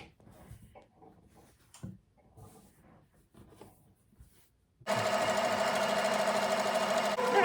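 A sewing machine stitching the right sides of a t-shirt and a fabric strip together runs as a steady, loud mechanical whir in the second half, after quieter handling and rustling noises.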